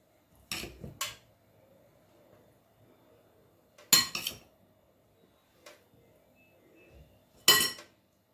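Spoonfuls of stuffing for mhajebs, Algerian filled flatbreads, scraped and tapped off a metal spoon: a few sharp clinks in separate clusters over quiet pauses.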